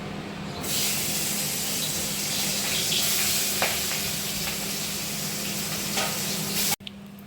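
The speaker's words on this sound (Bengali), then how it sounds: "এখন শিং মাছগুলো আমি ভেজে নেব" Singi fish coated in salt and turmeric frying in hot oil, giving a steady, dense sizzle that holds close and loud for about seven seconds before cutting off abruptly near the end.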